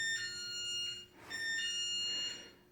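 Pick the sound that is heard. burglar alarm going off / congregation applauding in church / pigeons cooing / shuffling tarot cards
burglar alarm going off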